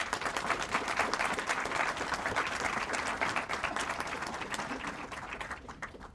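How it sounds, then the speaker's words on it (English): An indoor crowd at a ribbon-cutting event for a culinary and nutrition center gives a big round of applause for Sodexo, dense clapping that stays strong and then gradually thins toward the end. "So let's give Sodexo a big round of applause."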